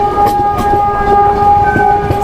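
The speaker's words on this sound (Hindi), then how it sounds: "और हमारी ट्रेन अभी फ़िलहाल नजीबाबाद जंक्शन पर अराइवल लेती हुई" The 14114 Subedarganj–Dehradun Link Express rolls into Najibabad junction, heard from on board as a loud, steady rumble with rhythmic clanks and a sustained tonal whine.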